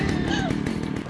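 A chainsaw in the video game Resident Evil 4 gives a loud, steady buzzing drone with a wavering pitch, close and continuous through the moment, and game noise runs under it.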